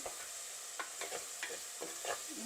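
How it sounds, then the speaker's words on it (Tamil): Tomato and onion sautéing in a pan for a spicy crab masala, a soft low sizzle broken by several quick spatula stirs and scrapes, fairly quiet and close. "அதையும் சேர்க்குறேன் சேர்த்து நல்லா வதங்க விடுறேன்"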